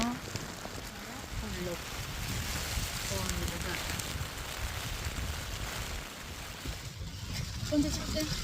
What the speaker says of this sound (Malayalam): നല്ല കാറ്റ് ഞങ്ങളെ കൊടയും കൂടി പോവാ